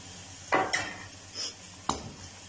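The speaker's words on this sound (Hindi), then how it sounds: "तो इस वक्त डालेंगे हम टमाटर।" Tomatoes sauté in a pan for a mixed vegetable curry, with a few scraping stirs and soft clinks over a faint, quiet sizzle.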